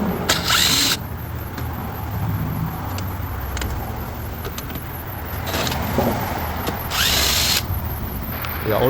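A power drill whirs while removing screws along the rubber gasket atop a BMW 528i bumper; the motor runs loud and continuous with high whine, surging in short bursts near the start and again late.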